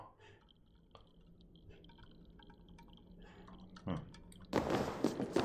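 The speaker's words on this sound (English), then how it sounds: "There's even water dripping down." Water drips in a cave in the game Assassin's Creed Valhalla: faint, sparse drips and small plinks echo over a quiet low hum, followed by a louder splashing, trickling burst near the end.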